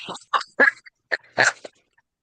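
A puppy gives a few short, high yips and whimpering cries in quick bursts over about two seconds, close by and fairly loud, with brief pauses between them.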